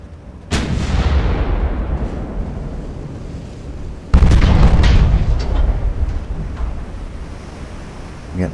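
Heavy naval guns boom twice in the Ultimate Admiral: Dreadnoughts warship battle game, each loud blast rolling into a long rumbling decay, with a faint ocean-like wash beneath.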